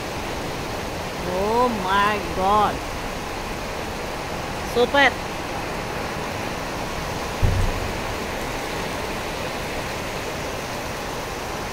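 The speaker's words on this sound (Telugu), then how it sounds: "వర్షం శబ్దం వినిపిస్తుందా?" Heavy downpour of rain in Bangalore: a constant loud wash of falling water, with brief voices and exclamations rising over it a few times.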